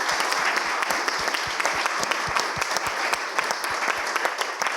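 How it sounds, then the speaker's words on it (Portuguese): A talk show audience claps for the guests, dense sustained applause of many hands with sharp individual claps standing out, steady and fairly close, no speech over it. "uma salva de palmas aqui para os nossos convidados"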